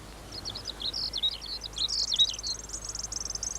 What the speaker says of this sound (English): listen to that bird